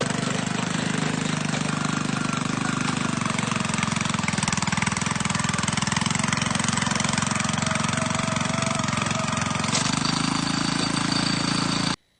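A Bolens Power Ho lawn tractor engine, revived after sitting forty years, runs loud and steady at close range with a constant buzzing drone that shifts pitch slightly near the end before cutting off.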